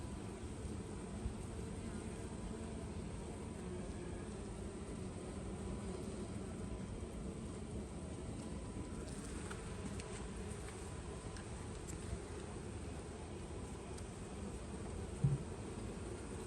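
Honey bees from a package colony swarm over a hive frame, a dense continuous buzz that stays steady and close throughout, with no talking.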